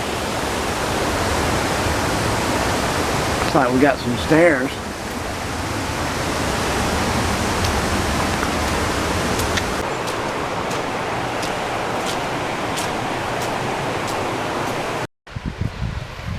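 Steady rushing water from a creek waterfall at Cheaha State Park, Alabama, a broad continuous roar close by, with a person briefly speaking partway through.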